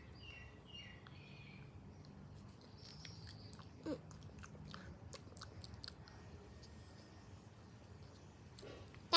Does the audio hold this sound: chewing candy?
yes